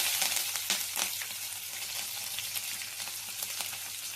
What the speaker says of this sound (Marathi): शेंगदाणे लालसर झालेले आता त्याच्यामध्ये मिरची टाकते